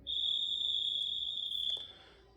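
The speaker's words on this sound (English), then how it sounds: "has a conductor whistle." A Roco model locomotive's conductor whistle: a thin, high-pitched tone held steadily for under two seconds, fairly quiet, then stopping with a faint click.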